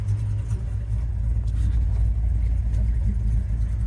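A 1967 Plymouth Barracuda Formula S with a 383 V8 and a mild street cam idles close by, giving a loud, deep, steady lumpy rumble with no talking over it.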